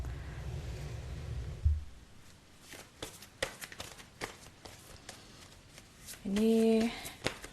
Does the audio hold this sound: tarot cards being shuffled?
yes